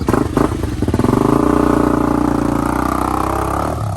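Xpro Hawk 250cc EFI dirt bike engine starting, a few sputtering cranks then catching into a steady, close, loud idle with a rapid pulsing beat.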